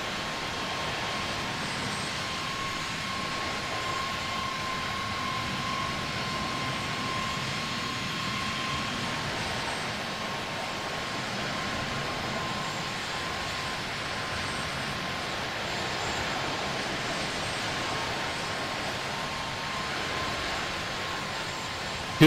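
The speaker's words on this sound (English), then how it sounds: "what is that plane doing?" Steady, continuous roar of a low-flying Spirit Airlines airliner's engines, loud and unbroken throughout with a faint tone running through it and no talk.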